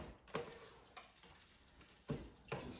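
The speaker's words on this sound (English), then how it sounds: "Take your time, pushing it back and forth. Stirring it around." Taco filling pushed back and forth in a pan, with soft scraping strokes over a low sizzle, a few distinct stirring sweeps spaced out over a couple of seconds.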